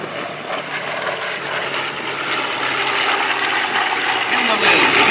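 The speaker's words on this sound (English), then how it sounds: "World War II Warbird, Flight of 4." Four World War II warbirds fly over an airshow together: a B-25, an FG-1D Corsair, a P-51 Mustang and a TBM Avenger. A steady, broad engine roar runs throughout and swells slightly toward the end, with a voice partly audible beneath it.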